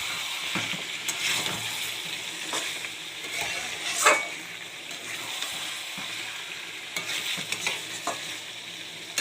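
Chicken curry frying in oil in a pan, stirred with a utensil: a steady sizzle with repeated scraping strokes and occasional clinks, close and moderately loud, no voices.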